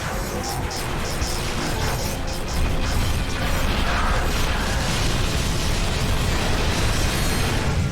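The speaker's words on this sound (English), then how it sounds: "Incoming! Grenade!" A grenade explodes amid a dense, loud battle in the video game Clatchet and Plank, with booming crashes and mechanical clatter filling the whole stretch while voices talk over it.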